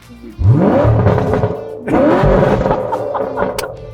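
A Chevrolet Corvette C7 on a race track revs its engine loudly twice, each roar climbing in pitch and then easing back, close by and with no talk.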